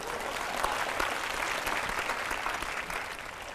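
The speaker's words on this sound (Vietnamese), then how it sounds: "xin cho một tràng pháo tay cổ động" Sustained applause from the audience of a Vietnamese TV dating show, dense and steady clapping throughout, tapering slightly at the end.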